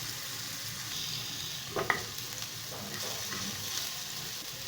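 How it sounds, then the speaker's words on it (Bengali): Coarse garlic cloves fry in oil with a steady soft sizzle, and a few light scraping stirs break through near the middle. Quiet, close and without talking. "রসুনটা সেই অবধি আমি এটা তেলে নাড়াচাড়া করব যে কাঁচা গন্ধটা সেটা যাতে চলে যায়"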